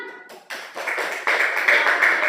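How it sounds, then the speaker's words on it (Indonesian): A classroom full of students breaks into applause that swells and grows louder, a dense scattered patter of hands clapping. "Iya, tepuk tangan."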